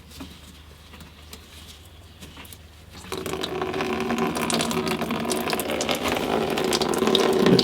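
Coolant from an Opel's radiator tap starts gushing into a box after about three seconds, a close, steady splashing rush that builds louder, following quiet handling noises.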